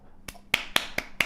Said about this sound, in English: An applause right out of the gate.